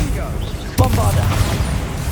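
A Bombarda blast from the Hogwarts Legacy video game: a sudden booming explosion with a crackling burst follows a short build-up, set against a game soundscape.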